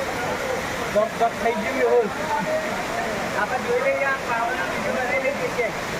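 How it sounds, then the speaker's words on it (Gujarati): Rushing water from Khuniya Mahadev waterfall in the Pavagadh forest fills the scene with a steady broadband roar, while people's voices chatter faintly throughout. "હા જો આ ધોધ પડે છે, જો ધોધ આટલેથી ધોધ પડે છે."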